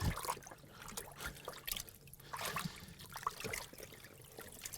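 Quiet splashing and trickling water, soft and close, with small drips and sloshes as inked paper is dipped and moved through a shallow basin of water.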